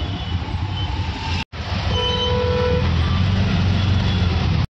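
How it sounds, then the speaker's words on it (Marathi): Dense road traffic stuck during a Ganesh immersion procession, with a steady loud rumble of engines, a sustained horn toot and scattered beeps close by, broken by one brief cut. "आणि आता आम्ही ट्रॅफिक मध्ये अडकलोय."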